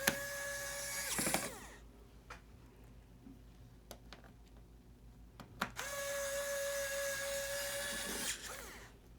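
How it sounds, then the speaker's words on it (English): An electric screwdriver drives screws into an HP 15-DY1043X laptop, giving two steady whirring bursts of about a second and three seconds at the start and end, with quiet handling clicks between them. "this is why I love this electric screwdriver, because it makes the process a little bit more faster for me"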